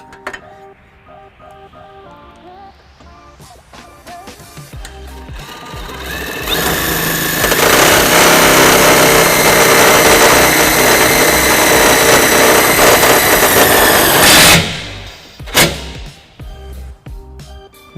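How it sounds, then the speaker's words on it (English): A power tool fitted with a 13mm socket drives self-tapping screws into the bumper of a 2012 Nissan Titan, a close, loud, steady whine that ramps up over several seconds, holds, then cuts off abruptly, followed by a few clanks. "We have our power tool with a 13mm socket that we will be using to do that."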